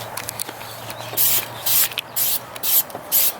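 Dupli-Color spray paint hisses from an aerosol can onto a car bumper in a series of short, even bursts with brief gaps between them, loud and close.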